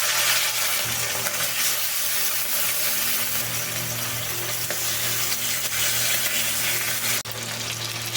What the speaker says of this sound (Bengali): সব মাছ দেওয়া হয়ে গেলে এবার মাছগুলো উল্টে পাল্টে ভালো করে ভেজে নেব।